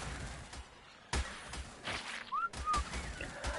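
A whistle command in the video game Ark, with two short rising whistle tones around the middle amid sharp game thumps and bursts of action noise.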